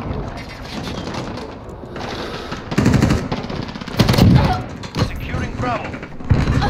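Rapid automatic gunfire from a Modern Warfare multiplayer match rattles in loud repeated bursts and single shots, with a person talking over the shooting.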